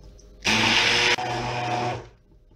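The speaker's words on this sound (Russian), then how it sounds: "И перетираем блендером." A blender mixing cottage cheese with eggs and sugar whirs loudly at close range for about a second and a half, then keeps running briefly before cutting off.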